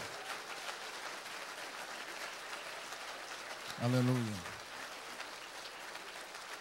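A church congregation claps for Yeshua in a soft, steady patter heard from a distance, while a single voice calls out briefly in the middle.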